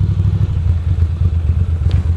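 Ducati motorcycle engines idle with a steady, throaty low rumble close by, a faint rattle riding on top.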